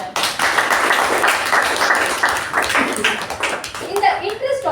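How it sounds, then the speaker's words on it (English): Toastmasters club audience clapping for its founders, a steady burst of applause filling the room, with voices talking faintly underneath. "Big round of applause for them."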